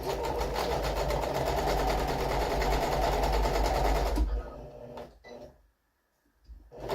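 A sewing machine stitches fabric for a homemade storage caddy, giving a steady, rapid, close whir for about four seconds before it stops and near silence follows.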